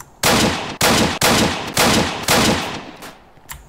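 Gunfire in the video game Apocalypse Rising: five loud, close bursts of rapid shots in quick succession, with a few fainter pops trailing at the end.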